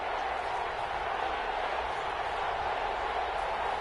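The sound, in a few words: crowd cheering in an American football video game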